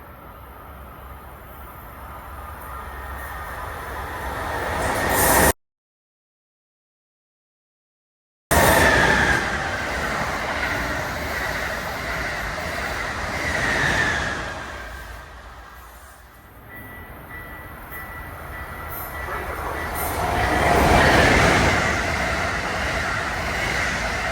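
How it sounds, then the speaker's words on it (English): Amtrak train arriving at a Northeast Corridor station, a loud rumbling pass with swelling and fading roar and rail noise, cut by a brief gap of silence partway through. "Train approaching. Please remain behind yellow line."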